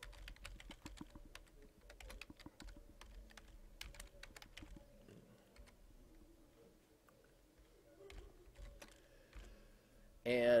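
Typing on a computer keyboard, quiet, rapid clusters of key clicks with short pauses between bursts, close by in a calm room.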